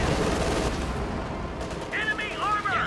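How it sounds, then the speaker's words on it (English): A Panther tank's roof-mounted machine gun rattles off sustained fire in a video game, a dense, steady stream of shots with faint chirping effects near the end. "Panther upgraded the MG on top."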